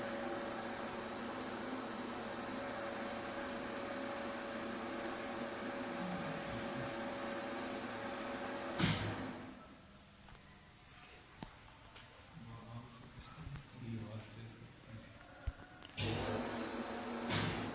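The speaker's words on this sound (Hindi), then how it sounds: "अब आप सुन सकते हैं आयनाइजेशन का फिनोमेना शुरू हो चुका है" A steady electrical hum and hiss from a power cable under rising test voltage, with a sharp crackling ionization burst partway through, then quieter sporadic crackles and pops before the buzzing returns loudly.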